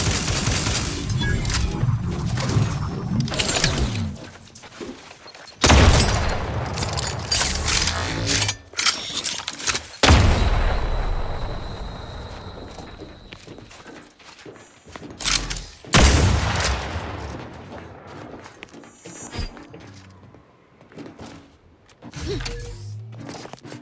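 Video game gunfire and explosions played on Linux: repeated loud broadband blasts and bursts of fire, with rumbling booms and mechanical clatter between volleys.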